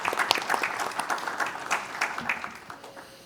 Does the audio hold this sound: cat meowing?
no